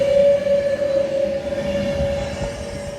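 A train at Milton Keynes Central station on the West Coast Main Line hums loudly with a sustained whining tone over rumbling rail noise.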